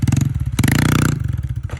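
A motorcycle engine held at light throttle while riding a wheelie, with a steady pulsing drone that briefly swells in revs mid-clip before settling, close and loud with no talk.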